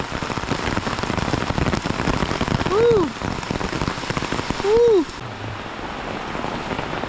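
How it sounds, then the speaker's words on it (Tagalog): Heavy typhoon rain patters steadily on a surface, a dense continuous hiss, while a voice twice lets out a sliding whoop. "Lahat na lang, lagi na lang umuulan."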